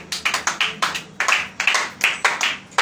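A church audience clapping together in steady rhythmic unison, about four claps per second, loud and close, with no voices over it.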